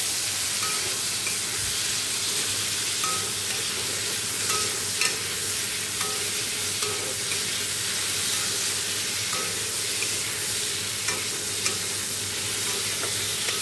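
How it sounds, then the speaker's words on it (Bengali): Potatoes and cauliflower fry in a pan, giving a continuous loud hiss and sizzle with faint periodic stirring clicks throughout, and no talk. "আলু ভেজে নিচ্ছি, এদিকে ফুলকপিও ভেজে নিচ্ছি"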